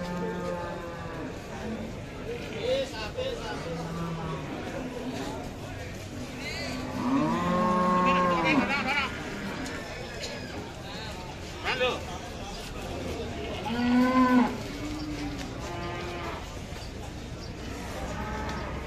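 Cattle moo repeatedly at a busy Indonesian livestock market, several long, loud lowing calls rising over constant crowd chatter and people talking nearby.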